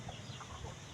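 Soft, faint clucking from chickens nearby, a few short muffled calls over a quiet outdoor background.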